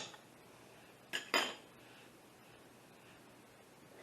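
Banana and egg mixture going into a bowl of creamed brown sugar and butter for banana bread, heard as two brief utensil clinks against the bowl and a soft scrape in a quiet kitchen.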